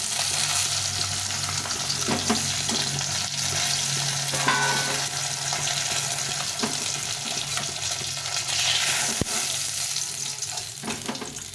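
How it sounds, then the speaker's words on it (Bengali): Fish frying in hot oil, a steady loud sizzle and crackle throughout with occasional clicks and stirring sounds. "সবগুলো মাছ ভেজে নিলাম একদম লাল লাল করে মাছগুলো ভেজে নিয়েছি"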